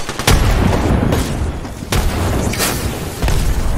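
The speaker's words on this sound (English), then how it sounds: "Nade that!" Booming blasts and gunfire from a competitive Apex Legends match, probably including a grenade explosion, keep up a dense, loud roar of thuds and sharp bursts with no talk.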